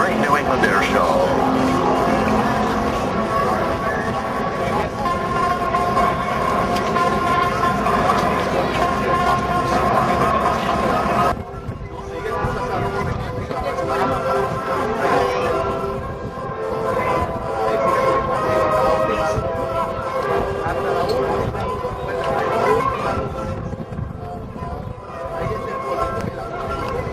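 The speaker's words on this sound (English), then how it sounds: "now he's on final approach, all those 28 wheels extended, and he's going to be touching down momentarily" A large 28-wheeled military aircraft on final approach to land at the Westover AFB airshow makes a loud, continuous roar that shifts in character partway through, with a voice talking over it.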